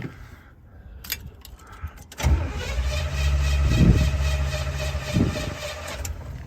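A 1980 Jeep CJ7 with a 350 V8 cranks briefly and catches, then settles into a loud, rumbling idle with two swelling revs from throttle blips, close by and without talk.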